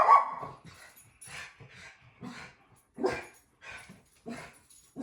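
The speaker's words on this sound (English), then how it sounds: "She's a very barky dog." Pet dog barking indoors, a series of short yips, whimpers and barks in an irregular rhythm, close by but fairly quiet.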